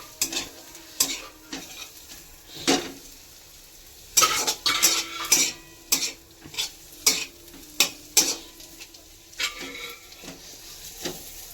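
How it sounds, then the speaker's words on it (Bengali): Onions fry in a pan for biryani topping: a soft sizzle runs underneath while a utensil stirs and scrapes, making sharp, irregular clanks and knocks that come in a loose rhythm. "একটু পেঁয়াজটাকে ভেজে নিই"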